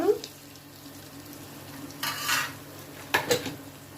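Onions fry in a pan for a taro curry, a low background sizzle broken by a few short bursts of stirring and scraping against the pan, with no talking.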